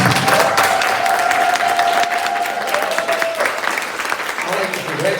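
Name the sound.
audience applause for graduates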